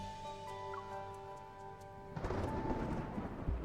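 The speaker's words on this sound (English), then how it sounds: "here comes the storm." A thunderstorm in the Love and Deepspace video game: steady tones and faint ticking give way midway to a broad rumbling roar with rain-like noise, moderately loud, with no talking.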